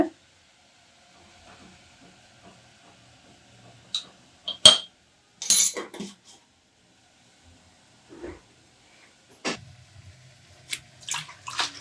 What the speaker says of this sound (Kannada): ಆವಾಗಲೇ ನೀರಲ್ಲಿ ನೆನೆಸಿಟ್ಟಿರೋಂಥ ಸೊಪ್ಪನ್ನ ಚೆನ್ನಾಗಿ ತೊಳ್ಕೊಬೇಕು